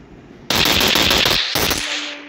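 Automatic gunfire from a gun in the Free Fire video game: two loud, rapid bursts close up, the first about a second long and the second shorter, with no talking.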